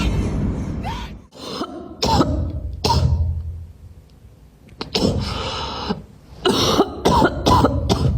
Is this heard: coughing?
yes